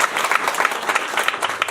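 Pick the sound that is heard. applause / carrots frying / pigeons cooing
applause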